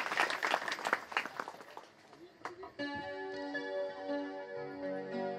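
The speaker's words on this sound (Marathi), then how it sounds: "त्यांची टाळ्या वाजवून स्वागत करा" An audience at a Shrimad Bhagavat katha gathering claps to welcome a guest, a brief patter of hands for about two seconds before fading into sustained musical tones.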